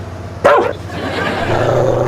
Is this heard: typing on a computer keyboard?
no